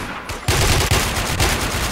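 Gunfire in the online shooter Warmode, a burst of loud, rapid shots crackling continuously after a brief quiet start, close and dense with no talking.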